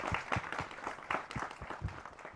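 An audience applauds at a stage event. Faint, rhythmic hand claps repeat steadily at a distance, with no one talking over them.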